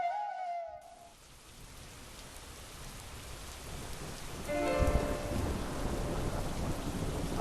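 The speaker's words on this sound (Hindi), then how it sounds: "अचानक बरसात शुरू हो गई।" Steady rain falling on a surface, soft and continuous, with a low rumble of distant thunder swelling in the middle; a brief tonal fragment opens before the rain takes over, no voices.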